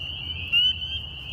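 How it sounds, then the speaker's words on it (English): A tiny frog calls from very close by, a steady high-pitched trill that holds throughout with a brief louder swell midway, over low background rumble and no talking. "you guys heard how close that frog was"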